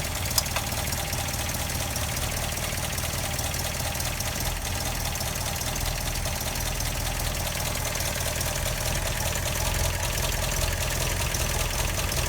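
An MGA MK2 engine idles steadily just after starting with correctly set timing, a continuous low rumbling drone with a faint ticking texture, close and even throughout, no voices.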